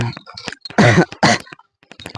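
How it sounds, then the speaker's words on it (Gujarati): A couple of harsh, close coughs or throat-clearing bursts on a farm, separated by brief breathy sounds and short pauses. "ઉધરસ ને એવું થઈ ગયું"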